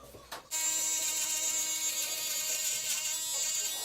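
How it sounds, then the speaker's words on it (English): An Andis electric shaver running against the neck during a low bald taper haircut: after a brief handling noise it switches on to a steady, close, high-pitched buzzing whine that holds for several seconds with slight pressure changes. "I'm gonna go use the Andy's shaver"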